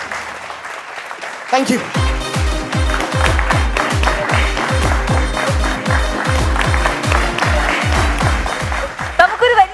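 A stage audience claps and cheers loudly after a comedy performance at a Christmas special show. The applause is dense and continuous, with rhythmic heavy thumps underneath, and a voice briefly speaks over it.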